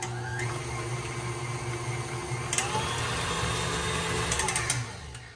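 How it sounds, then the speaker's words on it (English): Stand mixer with a paddle attachment mixing bread dough makes a steady loud motor whir with a faint clicking rattle, close by and with no talking. "You want to use the paddle attachment if you're using a stand mixer."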